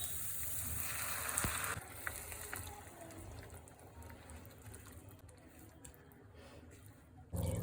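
Hot water poured into a pan of sizzling oil and spice mix with Kashmiri chilli powder for a Katla fish curry, a steady hiss and gurgle that sputters, then drops to a quieter simmer.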